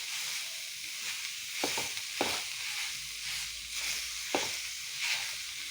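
A squeezed ingredient is stirred into a sizzling mixture in a pan, with soft scraping strokes at irregular intervals over a steady frying hiss, fairly quiet and close.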